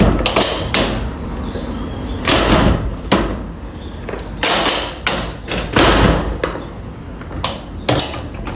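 A front door of a new house in Londrina being shut and handled, with a series of loud, close thumps and knocks spread through the clip, with no talking.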